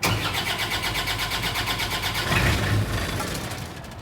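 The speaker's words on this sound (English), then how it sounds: "So now I'm going to go ahead and start the engine." The engine of a self-generating nitrogen servicing cart cranks over with a rapid, even pulsing, then catches and settles into a steady running hum that fades slightly at the end.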